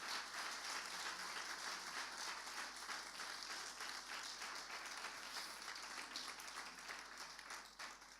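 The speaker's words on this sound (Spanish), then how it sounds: "Dele un aplauso más fuerte al Señor si lo va a hacer." A congregation at a church service claps loudly to the Lord, an even, sustained roar of many hands heard from a distance in a reverberant hall, tapering slightly toward the end.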